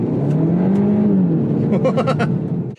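A Hyundai car engine revs up hard and accelerates using launch control, its pitch rising then settling, with bursts of sharper noise near the end.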